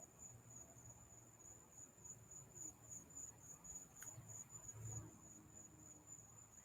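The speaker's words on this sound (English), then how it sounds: "can you guys hear the crickets?" Crickets chirp steadily outdoors at night beside a bonfire, a thin continuous high trill running through the whole stretch, faint and even, with soft low background rumble and no talk.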